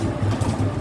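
A sturdy domestic pigeon gives a brief, close, loud coo with a low, pulsing throaty rhythm, with no talking over it.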